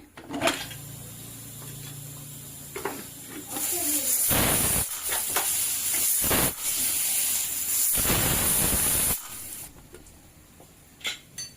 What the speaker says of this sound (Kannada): ಈಗ ಕುಕ್ಕರ್ ಲಿಡ್ ಕ್ಲೋಸ್ ಮಾಡ್ತೀನಿ ಇದು ಮೂರು ಸಿಟಿ ಮಾಡ್ಕೊಂಡ್ಬಿಡ್ತೀನಿ